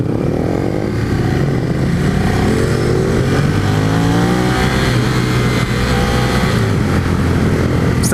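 A Ducati 848 Streetfighter motorcycle engine revs steadily and loudly up close, a continuous rumbling drone with rising and falling pitch sweeps as the throttle is worked.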